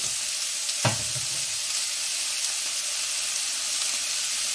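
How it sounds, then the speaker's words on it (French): Strips of squid sauté in a hot pan, giving a steady soft sizzle and hiss with a brief sharp clatter early on, up close and with no talking. "on les fait bien sauter"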